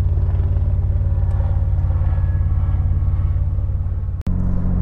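Chevrolet Blazer DLX V6 climbing a hill on the road: a loud, steady, rhythmic engine rumble heard from inside, pulsing evenly, with a brief sharp dropout near the end before the drone resumes.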